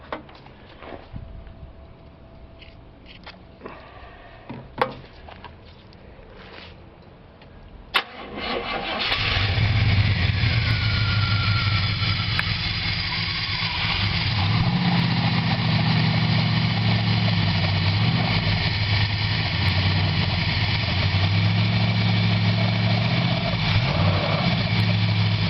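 Oldsmobile Cutlass G-body engine cranking with faint ticks and short bursts, then catching around eight seconds and settling into a loud, steady idle that runs on unbroken to the end.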